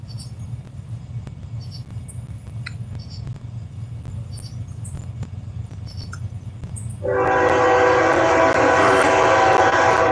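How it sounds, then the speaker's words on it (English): A train rumbles past beside the Mississippi River, steady, low and continuous, with a louder, harsher roar and screech rising sharply partway through and holding to the end. "Here comes the train."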